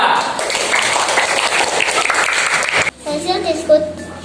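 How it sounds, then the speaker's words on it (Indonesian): A classroom group claps for the second group's presentation on the timing of menstruation in Islamic law, a lively burst of many hands that cuts off abruptly partway through, followed by a student's voice beginning to speak. "beri tepuk tangan pada kelompok yang kedua"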